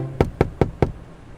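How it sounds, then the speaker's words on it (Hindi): Soft knocking on a door as a story sound effect: four evenly spaced light knocks in quick succession, close and clean with no talk. "बस एक हल्की सी नॉक फिर से हुई।"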